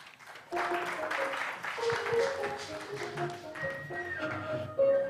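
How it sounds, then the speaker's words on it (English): An audience claps at an event for International Zero Tolerance for FGM, a dense, steady round of applause at moderate distance with faint tonal music running beneath it. "A round of applause, the UNFPA country rep. Dr. Mary Otieno"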